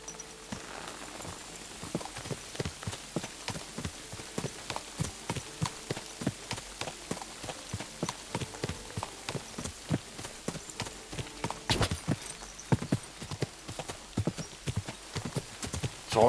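Horse hooves clip-clopping in a steady, fast rhythm from a ridden horse in Kingdom Come Deliverance 2, close and continuous with a soft ambient bed behind.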